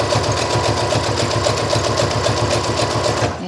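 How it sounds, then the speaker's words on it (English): A sewing machine stitches around the edge of a piece of fabric, its needle chattering in a fast, even rhythm, loud and close, running without a break until it stops just at the end. "I'm just going to sew around the edge. Actually, I'm sewing it to the fabric."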